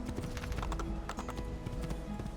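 Horse hooves clip-clop in a steady, even rhythm in the Assassin's Creed 2 video game, quiet and continuous with faint ambient game sound and no talking.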